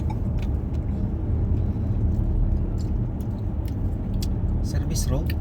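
Road traffic on a service road in Riyadh, a steady low rumble of passing cars and engines heard from nearby, continuous throughout with faint higher clatter on top.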